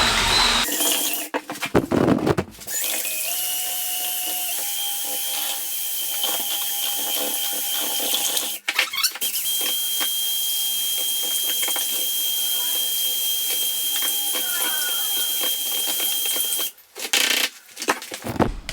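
A power mixer churns emulsion paint on its lowest setting, a steady continuous whirring drone that runs for long stretches, broken by a few short pauses and clattering stops.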